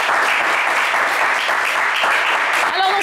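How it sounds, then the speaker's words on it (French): Studio audience applauding loudly for a team of contestants on a French television game show, dense steady clapping filling the whole stretch with a brief bright tone near the end. "un max d'applaudissements également pour eux"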